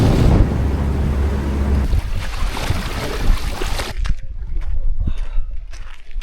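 Wind of about 15 mph gusts over a river with small waves on a hot day, roaring heavily into the microphone at first, then easing to lighter water sounds and breezy rustle.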